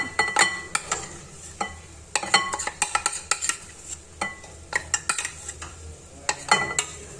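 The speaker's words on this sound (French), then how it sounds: "Et là je rajoute le chocolat fondu. Hop. En mélangeant." Melted chocolate is mixed into cake batter for a chocolate fondant, giving close, irregular scraping and clinking of a utensil against a bowl with soft wet stirring between strokes.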